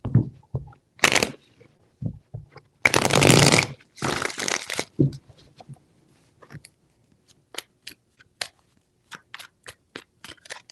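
Tarot cards are shuffled close up in several short, crisp bursts of riffling and slapping, followed by scattered soft taps as they are laid out.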